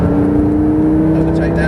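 A Lamborghini Gallardo with E-gear transmission accelerates hard on a track, a loud steady engine drone from inside the car with strong low harmonics. A voice talks over it throughout.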